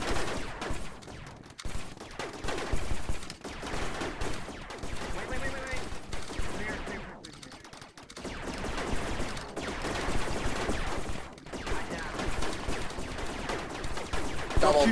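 Dense, continuous gunfire from the video game Rec Room, with rapid bursts and overlapping shots that barely let up, while players shout over the shooting.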